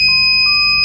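An Arduino gas detector's buzzer sounds, a steady high-pitched electronic tone held for the whole short moment, loud and close, alone without voices.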